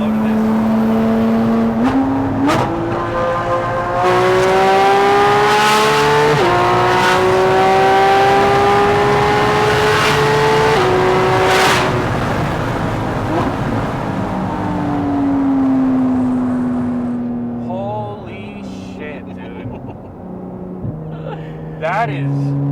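Loud engine of a Porsche 718 Cayman GT4 RS with an aftermarket exhaust, heard close through open windows as it revs up through several gears with rising, stepped pitch, then eases off near the end.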